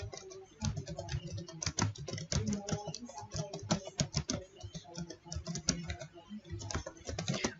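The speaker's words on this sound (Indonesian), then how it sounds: "Yang pertama saya akan coba ketik judul dulu." Rapid, close typing on a computer keyboard while entering a form title, a steady stream of light key clicks with no talk.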